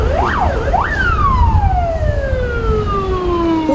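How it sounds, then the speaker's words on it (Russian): A fire and rescue vehicle siren wails loudly and close by, sweeping up and down in pitch over a steady rumble of traffic, arriving at a sports arena in Samara. "Утром к Самарскому дворцу спорта имени Владимира Высоцкого была стянута пожарная и спасательная техника"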